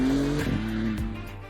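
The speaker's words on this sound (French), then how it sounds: "vous avez un moteur V6 biturbo et un V6 biturbo, ça fait moins de bruit qu'un V8 Atmo" A Maserati MC20 supercar with a V6 biturbo engine drives hard, a loud close engine note shifting pitch with a brief tire squeal over steady road roar.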